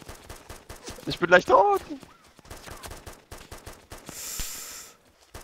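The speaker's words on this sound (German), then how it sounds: "Da schießt einer auf mich." Gunfire in the survival game DayZ Origins cracks as a steady rhythm of sharp shots under a man's speech and heavy breathing, with a hissing burst near the end.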